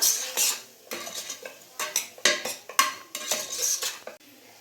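A spoon scrapes and clinks against a metal pot while potato pea masala curry is mixed, in a run of uneven, close, fairly loud strokes with no voices.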